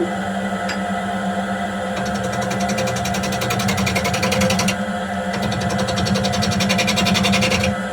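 Wood lathe turning an off-centre round-bottom bowl blank with a 5/8 bowl gouge: a steady, loud motor hum with fast rhythmic chattering bursts as the gouge cuts, running continuously without talk.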